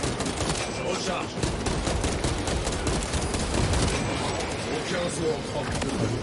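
Heavy gunfire fills a Warhammer 40K Space Marine 2 game session, with dense, continuous bursts and booms that sound loud and close throughout, while a player talks over the shooting.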